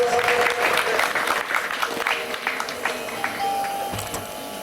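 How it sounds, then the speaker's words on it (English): A roomful of people applauds steadily at a school graduation award ceremony, the clapping fairly loud and even, tapering slightly toward the end. "Please give a round of applause."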